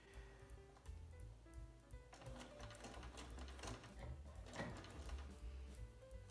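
Sewing machine stitching a seam in reverse on fabric for a beginner tote bag, a steady close mechanical whirr with rapid ticking that runs continuously, with faint handling sounds.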